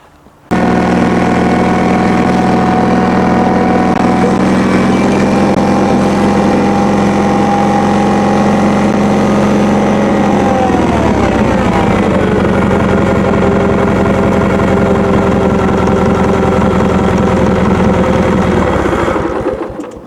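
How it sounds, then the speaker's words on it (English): A lawn mower engine idles loud and close for about twenty seconds, a steady running drone whose pitch drops and settles lower halfway through, then cuts off at the end. "Gotta let it idle just a little bit before you shut it off, or it'll choke"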